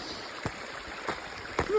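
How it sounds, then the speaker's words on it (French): River flowing beside an icy, narrow hiking trail, a steady broadband rush of water throughout, with a few soft crunching footsteps and no talk. "Là, j'ai la rivière de l'autre côté"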